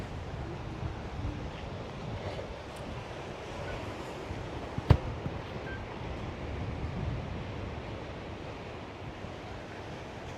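Sea waves washing steadily along the Taiwan coast with wind buffeting the microphone, a continuous low rumble with one brief sharp knock midway and no talking.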